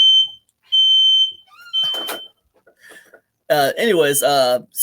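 A household smoke alarm set off by cooking shrieks in repeated loud, steady high-pitched beeps, with pauses between bursts, then a voice speaks over the end.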